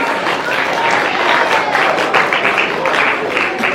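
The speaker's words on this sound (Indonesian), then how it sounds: "Tepuk tangan buat zuhdi ya" Loud, steady applause from a seated audience at an Islamic lecture, dense hand claps filling the room continuously without a break, no talking over it.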